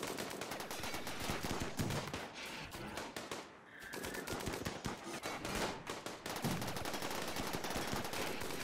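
Heavy SMG fire in RimWorld, dense rapid bursts overlapping almost continuously, with a brief lull midway before firing resumes, fairly quiet overall and without speech.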